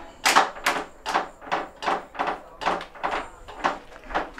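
A Metro Patriot four-wheel mobility scooter creaking rhythmically, about ten evenly spaced squeaky groans roughly every half second, close and fairly loud.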